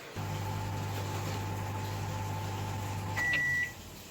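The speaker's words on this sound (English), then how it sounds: "So we're gonna pop this in the microwave" A microwave oven heating a beauty blender hums steadily with a low drone, then stops and gives a short beep near the end.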